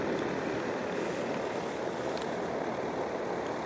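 A revived 40-inch scrapyard fan blows air over grass outdoors on a windless night, a steady broadband whoosh of moving air that holds at an even level throughout.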